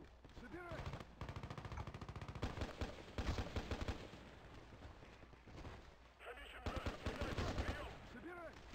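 Rapid automatic rifle fire from L85 and FAMAS rifles in the video game Battlefield, long bursts of closely spaced shots with a few short gaps, moderately loud, with someone speaking over parts of it.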